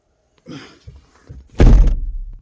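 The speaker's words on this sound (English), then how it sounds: "I got a rope, so I can take this rope off, and now I can pull the door shut." A Hummer H3 door is pulled shut with a rope and closes with a single loud, close thunk. A few softer rustles and bumps come just before it.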